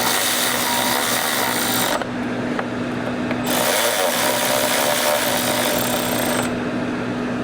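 Power driver or tool work on a fixed blade knife handle, setting screws into it, a loud continuous buzzing, grinding whir that runs throughout with brief dips in the high end, no talk.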